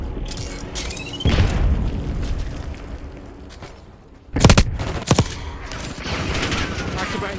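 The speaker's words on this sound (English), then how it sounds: "Semtex incoming!" Semtex grenade blasts in Call of Duty: Black Ops 6: two sharp, loud explosive bursts land close together over steady battle noise, with gunfire and faint voices around them.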